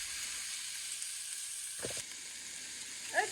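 Sweet Italian sausage meat browns in a pan for lasagna, giving a steady bright sizzle with a brief scrape of stirring partway through and a small clink at the end, heard up close.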